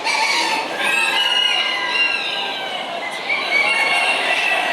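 Chabot bantam chickens calling loudly and continuously at close range, a dense mix of clucks and crowing-like cries with no voices over them.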